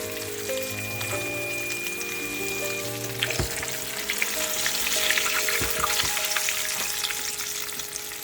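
Chicken cordon bleu frying in a pan over a medium-low flame gives a steady, even sizzle throughout, with a couple of sharp utensil knocks partway through and a slightly louder crackle toward the end.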